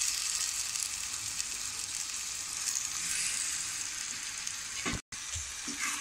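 Half a kilo of cleaned chicken goes into a pan of ginger garlic and sizzles loudly with a steady, close frying hiss. A brief break near the end is followed by stirring clatter.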